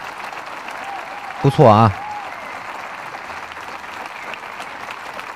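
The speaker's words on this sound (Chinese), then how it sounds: "观众给土豆热烈的掌声啊，表示鼓励" Snooker spectators at the 2022 German Masters clapping for a good shot, a steady spread of applause in the arena while a commentator briefly speaks over it.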